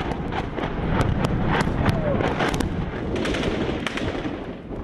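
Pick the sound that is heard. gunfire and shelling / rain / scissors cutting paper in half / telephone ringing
gunfire and shelling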